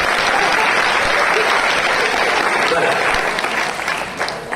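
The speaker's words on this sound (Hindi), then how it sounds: "उनके लिए एक बार जोरदार तालियां हो जब तक तालियां बजा रहे हैं।" Loud, sustained applause from a lecture audience fills the room, steady throughout and easing slightly at the end.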